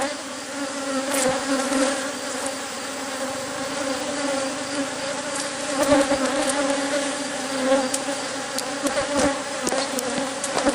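A vicious honeybee hive being requeened gives off a dense, steady close buzzing of many bees, with individual bees droning past near the ear; no talking.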